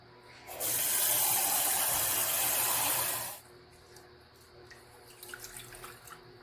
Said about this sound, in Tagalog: Lagyan ng tubig ang kaldero at hugasan ang bigas.